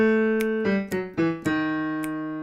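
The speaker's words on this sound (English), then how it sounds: "Just listen to that on the piano." Solo piano plays a passage from Mendelssohn's oratorio Elijah, with sustained chords struck in a few distinct onsets and ringing out, close and clear with no voices.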